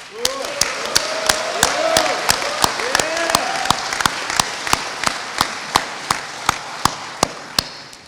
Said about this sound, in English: if everybody will join me in another round of applause for our newest cadets